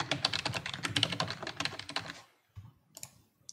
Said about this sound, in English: you can click on this question mark here, for instance, and you can type in your name